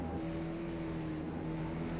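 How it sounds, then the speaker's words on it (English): Steady race car engine drone in a racing video game on a cold December track, held at a constant pitch with a low rumble, moderately loud and alone. "the car just gets to fourth gear there"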